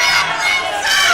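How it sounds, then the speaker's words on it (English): A wrestling arena crowd in Pompano roars and cheers loudly and continuously, a dense wall of shouting voices close and overwhelming. "And now this crowd here in Pompano is starting to get deafening"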